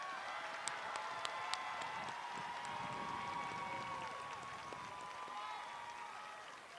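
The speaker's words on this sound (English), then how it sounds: "And let's give them a round of applause" Audience applause at the 2025 Waynesville High School graduation ceremony for summa cum laude graduates, a steady wash of clapping from a large crowd that holds evenly for several seconds before easing off.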